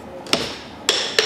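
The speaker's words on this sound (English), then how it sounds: "then just tap it down" Wooden dowels tapped down into a Maltese case, giving three sharp, close hammer taps spaced irregularly over a quiet background, with no talking.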